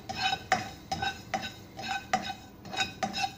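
Chopped garlic and roasted cumin stirred in a dry pan over low flame, no oil: rhythmic metallic scraping and clinking of a spoon on the pan, about two strokes a second, close and fairly quiet, with only a faint sizzle.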